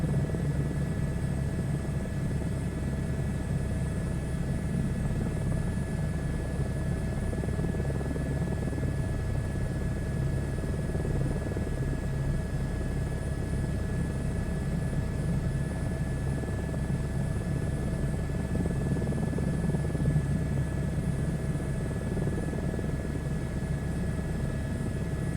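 Simulated aircraft in Microsoft Flight Simulator during a search-and-rescue flight, a steady droning rotor-and-engine hum with faint tonal whines, continuous and even throughout with no talking.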